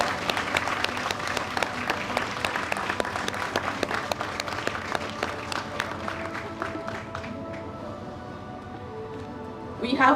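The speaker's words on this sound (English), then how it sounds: "Another round of applause." Crowd applause at a Guyana and Caribbean vaccination launch ceremony, a strong burst of many clapping hands with sharp individual claps that gradually thins and fades, a voice rising briefly over the tail end.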